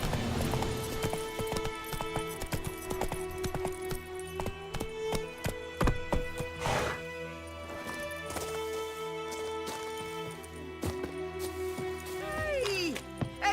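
Roach, a horse in The Witcher video game, gallops with rhythmic hoofbeats under steady game music, a voice speaking briefly over it.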